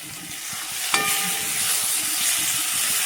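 A loud, continuous sizzle of potatoes and tomatoes frying with onion, salt and turmeric, opened by a sharp metallic clink of a utensil against the pan.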